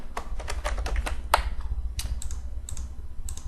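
A short burst of typing on a computer keyboard, with distinct, close key clicks in quick irregular succession over a low background hum.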